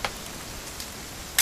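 A single crisp camera shutter click in a video game near the end, after a brief click at the start, over a steady background hiss.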